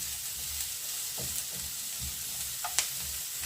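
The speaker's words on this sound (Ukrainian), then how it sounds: "Цибуля нам потрібна не пер, не пересмажена, а така, щоб стала трішечки золотиста і ніби карамелізована." Onions frying in a pan for ojakhuri, Georgian-style potatoes, cooked until soft and lightly golden, give a steady low sizzle throughout, close and fairly quiet, with a few faint clinks of a utensil stirring.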